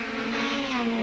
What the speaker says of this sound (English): The sound of numerous S2000 engines filled the Killarney night sky as fans were treated to some